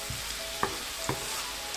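Garlic and ginger frying in a kadhai for turnip saag, giving a steady soft sizzle with two sharp clinks of a spoon against the pan, close and without talk.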